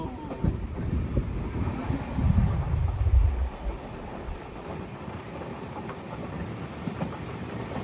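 Steady rumbling and rattling inside a moving train running empty through southern India past Thiruvananthapuram into Tamil Nadu, with a louder low surge of wheel and carriage noise midway that then settles into continuous clatter.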